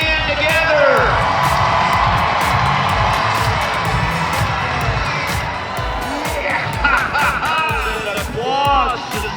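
A rodeo arena crowd cheers, whoops and shouts loudly and continuously, the dense roar swelling and dipping with scattered yells on top, and voices are heard within the noise.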